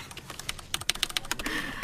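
A new, rather loud computer keyboard clacks under quick typing, a rapid run of crisp keystrokes heard up close with no talking.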